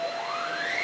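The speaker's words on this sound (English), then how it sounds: "All right, so I'm going to turn on the vacuum cleaner now." A household vacuum cleaner powering up indoors, its motor whine rising steadily in pitch over a continuous airy roar, close and loud with no talk.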